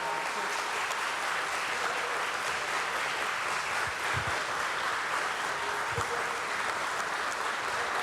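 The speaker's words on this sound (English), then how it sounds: "A big round of applause for this momentous occasion." Sustained audience applause at a ceremony relaunching stock-exchange derivatives contracts, a dense steady wash of clapping from a large crowd that holds evenly from start to finish, with no talk over it.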